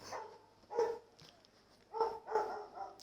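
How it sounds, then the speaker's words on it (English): Dogs bark in short bursts somewhere indoors, a few sharp barks followed by a quick cluster of barks, moderately near and fairly quiet against a low steady hum. "Sorry about the dogs."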